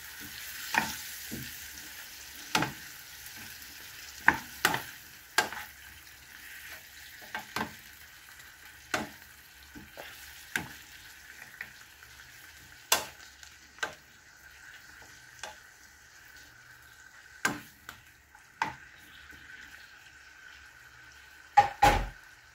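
Chicken lechon paksiw with black pepper is stirred in a pan, with a soft, faint sizzle underneath and repeated sharp scrapes and clacks of the utensil against the pan at an irregular pace.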